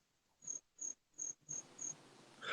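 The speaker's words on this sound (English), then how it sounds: "you gonna get crickets with that one" Crickets chirping as a sound effect, five evenly spaced high chirps in a steady rhythm over near silence, with faint background noise rising at the end.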